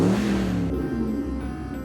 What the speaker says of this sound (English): Sounds like my truck.